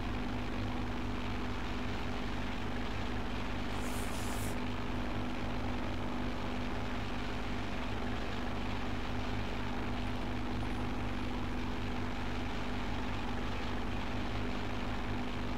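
A small propeller airplane flying over St Maarten drones loudly and steadily from close inside the cabin, a constant engine roar with a low hum and no breaks.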